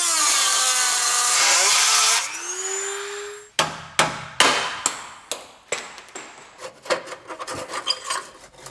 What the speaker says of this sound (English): Look, Dremel it is.